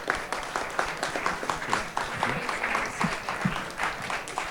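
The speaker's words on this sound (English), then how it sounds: "We want to thank our candidates tonight, so there's the round of applause for them" Audience applause for city council candidates at a 2013 candidates forum in Westlake Village, moderate and fairly sparse with distinct individual claps, steady across the whole stretch with no voices over it.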